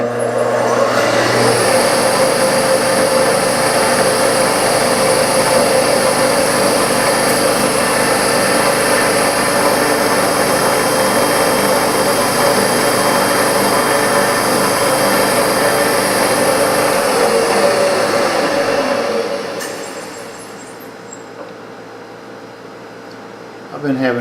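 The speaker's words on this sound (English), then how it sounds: "center drill it, then drill it," A machine tool drills a hole with a number 31 drill bit, running as a steady, loud whine with a constant hum for about twenty seconds before it winds down and quiets.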